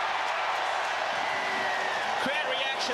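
A rugby stadium crowd at the 2006 Tri Nations match between New Zealand and Australia roars steadily after a try conversion, a broad, continuous wash of noise with voices mixed in.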